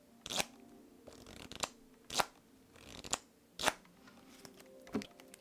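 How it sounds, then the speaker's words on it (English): A deck of playing cards is riffled by hand, producing about six short, crisp, close fluttering bursts separated by quiet gaps. "scoot the deck up into your hand like this, so your thumb is above, fingers below like this to make the riffling action"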